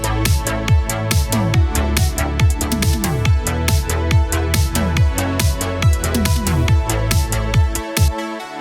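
Layered synthwave arpeggio synth patterns playing together, a steady rapid stream of bright plucked notes over pulsing low tones, continuous and loud with no voices.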